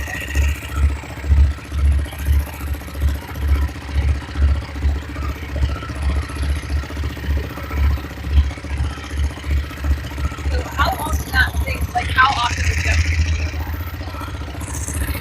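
Hit and miss engine running, a steady close thumping chug with a regular rhythm, joined near the end by brief clinks and voices.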